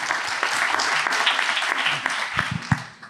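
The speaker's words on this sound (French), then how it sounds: "Ça mérite tous les applaudissements du monde" A festival audience at a talk breaks into dense, continuous applause, close and full, thinning slightly toward the end with a few sharper claps and faint voices underneath.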